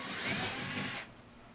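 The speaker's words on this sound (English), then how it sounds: "I can drill for the electrical wire that's going to come off the backside of the lamps" A power drill bores holes in a ceiling for lamp wiring and a toggle bolt, a loud steady whine running for about a second before cutting off abruptly to quiet.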